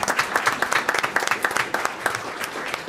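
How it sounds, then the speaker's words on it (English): An audience at a village board meeting applauding steadily for a few seconds, many hands clapping together in a dense, even patter with no voices. "But we can clap for them anyway."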